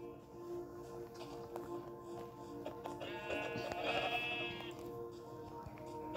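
Sheep bleating in a video game set in the mountains, with a burst of layered bleats rising near the middle over steady game background tones, moderately loud and close.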